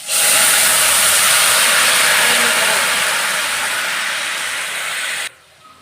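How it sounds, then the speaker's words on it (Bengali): Fish broth from a bowl poured into a hot kadai with nigella seeds and green chillies, giving a loud, steady hissing sizzle that slowly fades over about five seconds, then cuts off abruptly to quiet. "যে ঝোলটা আমি ঢেলে রেখেছিলাম বাটিতে ওটা আমি দিয়ে দেবো কড়ার মধ্যে"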